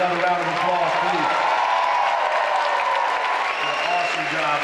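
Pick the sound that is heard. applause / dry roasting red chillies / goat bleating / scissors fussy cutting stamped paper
applause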